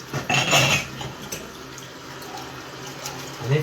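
Dishes, pots and cutlery are washed at a sink with running water, close up, with a clattering burst early on followed by softer splashing and occasional clinks.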